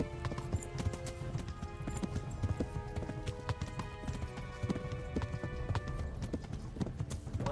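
Horse hooves gallop in Kingdom Come: Deliverance, a fast, steady, close clip-clop rhythm running throughout, loud and clear with no talk.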